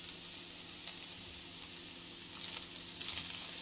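White onion hitting rendered beef fat for sisig, a steady close-up sizzle and frying hiss with faint crackles, running evenly without pause or voices.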